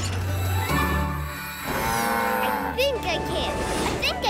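A cartoon cow lets out a long, loud, close moo that swells and wavers, followed by a shorter second moo, over a busy animated soundtrack with no speech.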